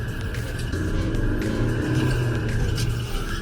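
A Proton Iriz Active's engine revs steadily under throttle at around 3,500 rpm, a loud continuous drone heard from inside the car with no talking.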